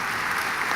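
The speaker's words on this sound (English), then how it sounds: "Please join me in a round of applause" Applause from a commencement audience, a steady dense wash of many hands filling the short moment without a break.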